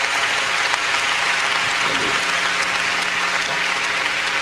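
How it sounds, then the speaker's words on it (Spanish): Congregation applauding at a church gathering in Irvine in 1992, steady dense clapping filling the room throughout, loud and continuous with faint voices underneath. "Un fuerte aplauso al Señor, hermanos"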